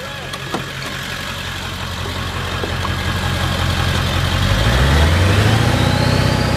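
A 7.3 diesel truck engine with turbo starts near idle and revs up steadily, the rising whine and deepening roar growing louder toward the end, with no talking.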